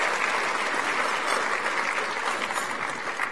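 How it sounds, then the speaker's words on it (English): Audience applause at an education awards presentation as the finalists leave the stage, a dense steady clapping from a large crowd that holds for a few seconds. "Please give them another round of applause as they exit the stage."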